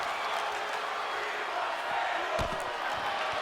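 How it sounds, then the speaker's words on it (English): A wrestling crowd at an indie combat show makes a steady, massed roar that stays at a constant level, with a few brief thuds near the end. "Hear the crowd chanting, "We want tables.""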